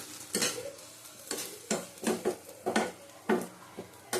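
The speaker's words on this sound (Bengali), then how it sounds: "পুরো কড়াইতে ফুটে যাচ্ছে, তার মানে একদম হয়ে গেছে পারফেক্ট।" Taro paste cooked with shrimp in a wok, giving bursts of scraping and stirring clatter with a soft simmering bubble beneath, close and fairly loud, no voices.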